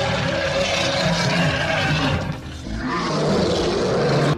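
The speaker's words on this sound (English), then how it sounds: "Lion." A cartoon lion's roar, a continuous loud rumble with a brief dip in the middle before it swells again to the end.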